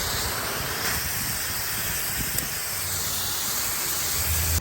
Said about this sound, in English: I am going to get it watered in with my hose here